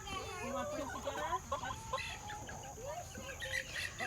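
Chickens in an urban backyard coop cluck and make soft warbling calls continuously at close range, over a steady background hum and faint room noise.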